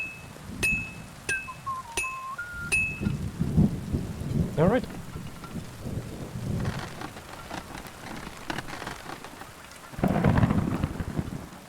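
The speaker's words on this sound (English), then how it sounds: "With the rain and the thunder." Rain patters steadily and thunder rumbles in a Kingdom Come: Deliverance II storm, with a few bright chimes early on and a louder burst of rain near the end; a single voice speaks briefly.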